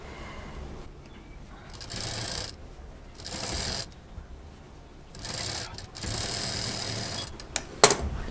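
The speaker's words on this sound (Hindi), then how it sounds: "यहाँ पर दाब मशीन चला दी।" A sewing machine stitches the pocket of a cloth shopping bag in several whirring runs of a second or so each, broken by short pauses and a small clink near the end. The machine sounds close, with no voices.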